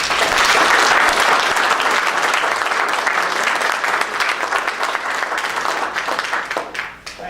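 Audience applause welcoming a guest speaker to a USGS talk on Yellowstone, a full room clapping steadily and loudly, then gradually thinning out toward the end.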